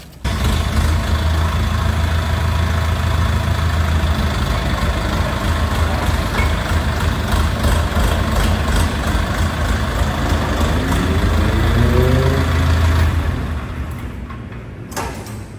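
A Trident tractor's engine idles loudly and steadily up close while it drives out of its detached front-end loader, with a mechanical whine rising near the end before the sound drops and fades.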